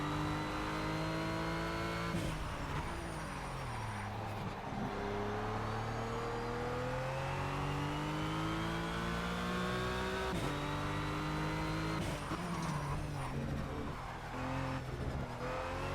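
A race car engine in the racing game Project Cars, revving high through gear changes, dropping on downshifts and climbing again, loud and continuous with brief tyre noise and no talking.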